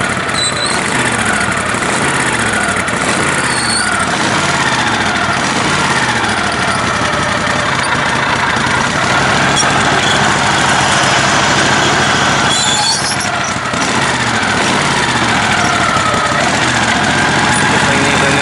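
A worn-out, leaking tractor engine due for a swap idles loudly and roughly up close, a steady throbbing drone with faint squeals running throughout.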